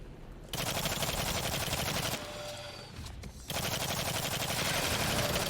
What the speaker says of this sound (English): We hear people shooting in the background.